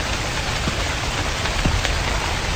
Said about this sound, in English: Wow, it is raining very hard today.